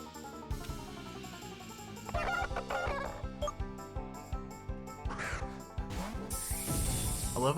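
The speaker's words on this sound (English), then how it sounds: "they basically just got like a fucking, like a chicken noise" Chicken noise in the video game Pokemon Xenoverse, a loud burst of clucks and squawks layered over busy game music and effects, repeating in short bursts across the clip.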